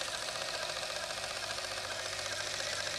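A Sinclair computer's small printer prints out a program, giving a steady, dense mechanical buzzing chatter that runs continuously and evenly at moderate level without pauses.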